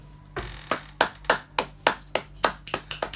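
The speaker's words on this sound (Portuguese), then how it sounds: "Uma forte salva de palmas." Sparse applause from a small audience at a Biologist's Day event, with about a dozen distinct, fairly close claps in a loose, uneven rhythm.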